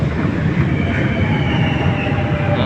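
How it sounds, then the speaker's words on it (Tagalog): A train in France rumbles past close by, a loud steady roar of wheels on rails with a faint high squeal above it. "baka yan yung tren na"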